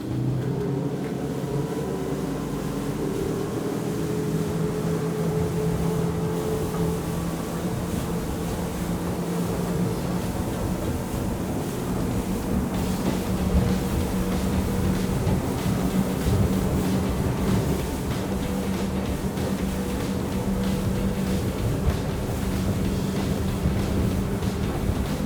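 Axopar motorboat running on plane at high speed, near 60 mph with a full fuel tank and trimmed up: a steady, even engine drone with water rushing past the hull, continuous and moderately loud, with no talking.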